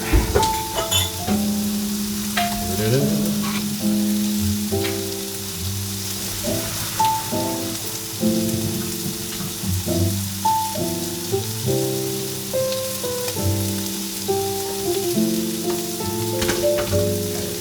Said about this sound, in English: We're going to drain the sweet potato and veggies.